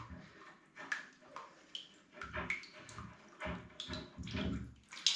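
Water drains from an iron pipe during a radiator swap, trickling and splashing in uneven gurgling bursts into a container, faint and close, with no speech.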